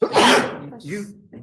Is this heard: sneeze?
yes